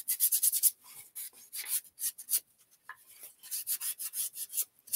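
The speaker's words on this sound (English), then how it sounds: "I love the sound of sanding" Scratchy sanding strokes on wood rasp in uneven bursts, close by, with short pauses between runs.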